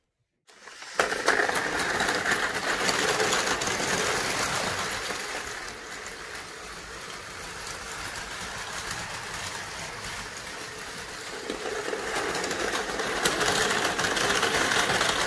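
Plarail battery-powered toy trains, an E5 Hayabusa and an E6 Komachi, run with a steady close mechanical whirr and rattle of small motors on plastic track, starting abruptly and continuing for about fifteen seconds with slight swells and dips in loudness.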